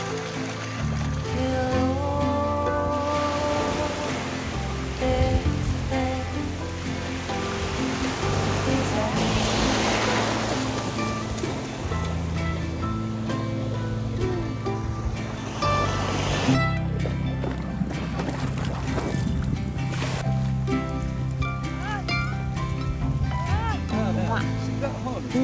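Sea waves wash and churn steadily around someone paddling in the sea, a loud continuous surf roar with splashes and voices talking over it.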